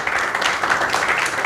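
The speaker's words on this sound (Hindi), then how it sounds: "ताली बजा दीजिए इनके लिए।" An audience at a Hindi share-market training event claps and cheers in a dense, sustained burst of applause, loud and continuous throughout.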